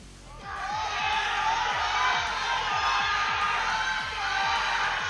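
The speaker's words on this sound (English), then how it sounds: "We've got the crowd coming alive now with these last lifts." Crowd cheering and shouting at a powerlifting competition during the final lifts, a loud sustained roar of many voices with whoops and rhythmic clapping or stamping running through it.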